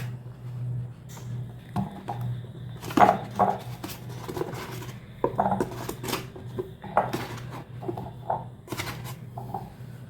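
Mushrooms being washed by hand in a kitchen before cutting for a spicy gravy, with irregular splashing, clinking of a vessel and handling noises at close range, no talk.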